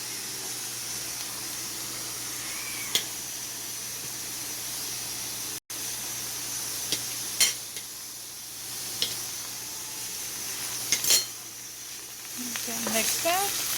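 Ginger and garlic fry for a Kerala beef curry in a steady, close sizzle that continues throughout, with occasional clinks and scrapes of a utensil against the pan. Faint bits of voice and clatter build toward the end.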